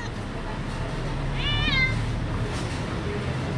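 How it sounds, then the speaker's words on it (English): A begging street cat in Riohacha, Colombia gives one short meow mid-clip, moderately close, against a loud, steady wash of wind and outdoor noise. "The world's only beggar cats are here in Colombia."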